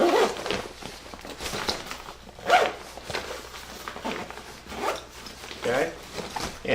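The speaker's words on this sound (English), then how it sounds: "let me zip it closed" A zipper running around the full circumference of a Mountainsmith Continental bag is pulled closed in several short rasping strokes with brief pauses between them, close and moderately loud.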